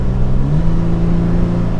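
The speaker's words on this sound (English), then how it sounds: "you will hear the TRD exhaust pretty good" 2022 Toyota 4Runner TRD Pro with its TRD exhaust droning steadily while driving, a low, even engine hum with a slight rise in pitch partway through, close and loud with no talking.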